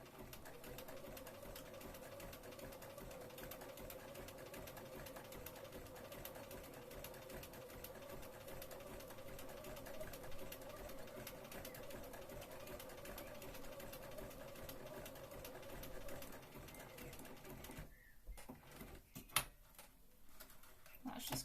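A sewing machine runs a steady, continuous zigzag stitch along the edge of a Regency dress, humming close and evenly for most of the time before stopping abruptly near the end.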